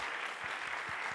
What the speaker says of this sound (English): Can we please give our awesome panelists a round of applause?